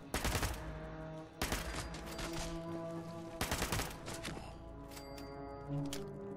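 Video game gunfire rings out in several sharp bursts of rapid shots, with pauses between them and a steady tonal music or ambient hum underneath, and no voices.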